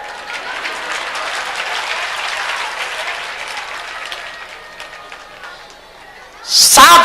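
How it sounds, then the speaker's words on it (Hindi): A large audience at a Bageshwar Dham religious discourse claps steadily for several seconds, dense and continuous, fading slightly before a sharp close burst at the end. "तुम ताली बजा रहे हो"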